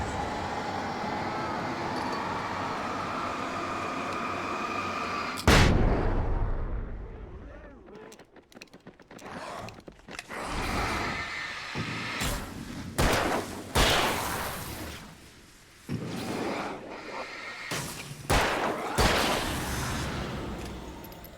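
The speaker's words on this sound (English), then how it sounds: "Well, that felt silly blowing a flash grenade on that." Flash grenade going off in the video game Alan Wake: a sudden loud burst cutting through rumbling ambience, followed by a series of heavy thuds and bangs that trail off.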